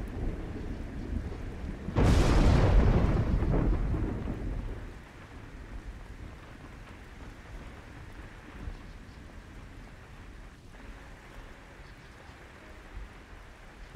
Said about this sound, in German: Es kommt ein Regengeräusch, also blitzt, Regengeräusche, Gewitter.